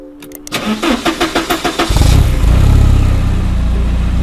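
Porsche 944 S2 engine cranking with a rhythmic starter churn for about a second and a half before catching and settling into a loud, steady idle close by.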